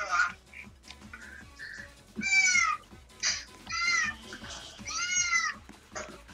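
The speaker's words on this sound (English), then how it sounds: "That's my cat." A cat meows repeatedly in a house, several drawn-out, clear calls close by, with a steady rhythmic clicking underneath.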